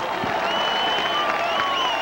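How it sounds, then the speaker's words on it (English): A baseball crowd gives a standing ovation, a steady wash of clapping and cheering from many people filling the stands, loud and continuous with no pauses. "Listen to this crowd. He's getting a standing ovation."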